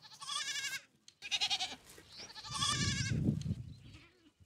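Thin, drought-weakened goats on a dry farm bleating close by: several wavering bleats in quick succession, with a softer low rustle and murmur of livestock in between.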